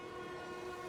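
A train rumbles in the Spider-Man 2 video game, giving a brief, faint, steady tonal hum like a distant rail horn under a continuous roll.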